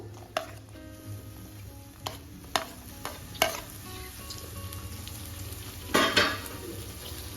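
Capsicum and tomato tipped into vegetables cooking for a traditional khichdo, a low steady sizzle broken by several sharp spoon knocks and a burst of louder scraping near the end.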